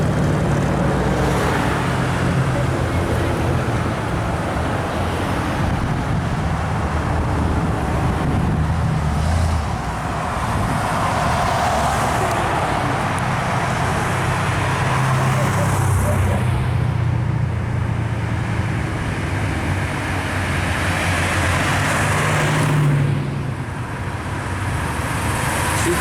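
Classic cars roll past close together at the Woodward Dream Cruise, a steady loud roadway rumble of engines and traffic filling the whole stretch, with faint voices in the background.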